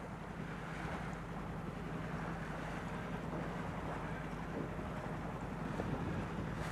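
Steady wind rushes and buffets continuously across a lake during a fishing boat trip, a broad, even roar with water and hull noise mixed in and no pauses.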